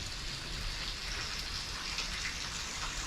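Rain pouring outdoors while out travelling in wet weather, a constant close hiss of drops striking surfaces, steady and uninterrupted with no voices.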